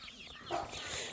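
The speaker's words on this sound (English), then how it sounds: "Those are Betsy meat birds over there." Free-range meat chickens clucking, a couple of soft brief clucks in the middle of faint outdoor ambience, fairly distant and quiet.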